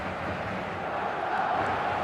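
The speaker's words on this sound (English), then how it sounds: "This crowd doesn't do ordinary" Stadium crowd in the eFootball 2026 video game: a dense, steady roar of many voices, fairly loud and continuous, with faint swells of chanting.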